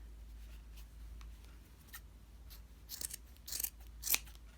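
Scissors trimming a yarn pom pom close up, quiet snips at first that grow into a few louder, crisp cuts near the end, with no one speaking.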